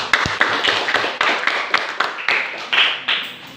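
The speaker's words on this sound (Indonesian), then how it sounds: "Tepuk tangan untuk semua." Rhythmic clapping from a small group of fifth-grade pupils in a classroom, steady and fairly close, about three claps per second.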